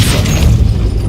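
Casting the Depulso force spell in Hogwarts Legacy lets out a loud, booming blast with a rumbling low-end tail and a brief crackling burst. Heavy and close, with no voices.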